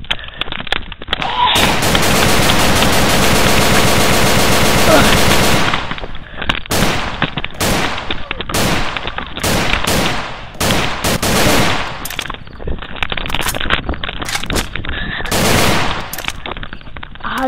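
Sustained automatic gunfire roars in a long unbroken burst, then breaks into separate loud bursts and single shots with short gaps between them, close and harsh.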